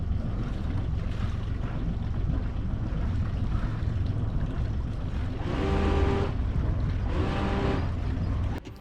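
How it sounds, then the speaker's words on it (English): A sailboat's bow thruster pushing the bow off a pontoon in a harbour: two distinct bursts of whirring electric motor hum over constant engine rumble and wind noise. "It does take half a dozen blows on the bow thruster to get the bow out."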